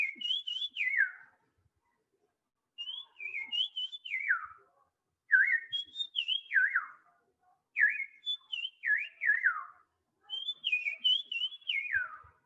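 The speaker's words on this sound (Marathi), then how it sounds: "हा ब्राऊन चिक फॉल्वेट आहे. हा जो आवाज काढतो तो रिपीट केला जातो परत परत." A brown-cheeked fulvetta gives clear, pure whistled phrases that fall in pitch, repeated five times with short pauses between, crisp and alone against silence.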